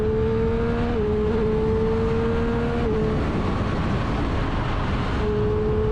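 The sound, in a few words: Triumph Street Triple 765 RS motorcycle engine riding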